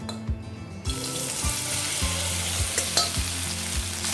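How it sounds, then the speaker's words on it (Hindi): Soybean chunks fry in hot refined oil in a kadai, loud close sizzling throughout with periodic stirring knocks and scrapes against the pan. "फिर से हम इसी कढ़ाई में 1 टेबलस्पून रिफाइंड ऑयल डालेंगे। ऑयल को अच्छे से गर्म होने देंगे। और जो बाकी के बचे हुए सोयाबीन थे,"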